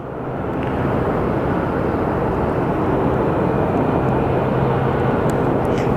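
Steady, loud roar of a fixed-wing airliner taking off at Phoenix Sky Harbor Airport, swelling in the first second and then holding a broad, continuous rumble, heard without any talk.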